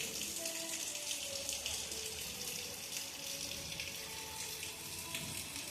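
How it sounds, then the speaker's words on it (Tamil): A faint, continuous rush of running water with a steady, rain-like hiss during heavy rain in Madurai, India, with water pooling at a doorway; no voices. "மதுரையில் நல்ல மழை."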